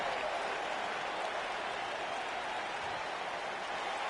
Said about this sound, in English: Great ovation here from the crowd here, coming alive for Cash Wheeler here.